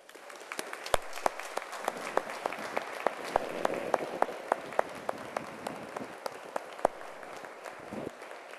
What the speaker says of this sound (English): Would you join me in giving another round of applause for this extraordinary choir?